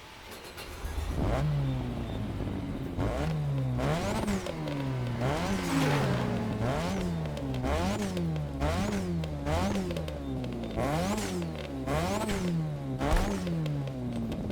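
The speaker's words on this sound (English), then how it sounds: "let's drive the RX-7 and let me show you what this thing sounds like" A Mazda RX-7 in The Crew Motorfest racing game revs hard through repeated gear changes, the rotary engine note climbing and dropping in a steady rhythm of rising sweeps, loud and close with no talk over it.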